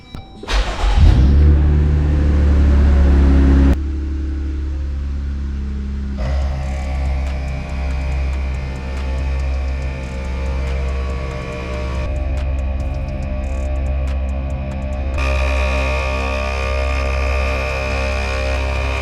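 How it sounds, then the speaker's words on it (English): An ARB twin air compressor running on a Jeep Wrangler JL: a loud startup burst, then a steady, droning electric-motor hum with a buzzing whine that holds at a constant level, over the idling engine. "I'm gonna fire up the Jeep and turn on the compressor"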